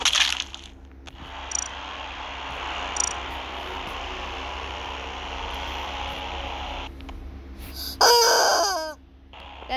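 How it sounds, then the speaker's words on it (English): Chicken in a video game, with a short burst of crowing and clucking near the end over a steady hum of game background noise, plus a couple of brief chiming blips earlier. "That's my winning chicken."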